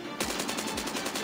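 Automatic rifle fire in Call of Duty Mobile gameplay, a rapid even burst of shots that starts abruptly and runs steadily, loud and close, with no one talking.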